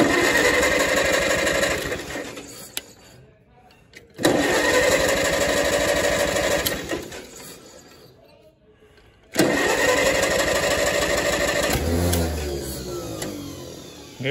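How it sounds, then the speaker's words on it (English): Vintage farm tractor engines such as an Allis-Chalmers D17 or Farmall A and H cranking over repeatedly in long loud bursts with pauses between, then catching and running at the end, with someone speaking nearby. "Let's see if we can get it started here."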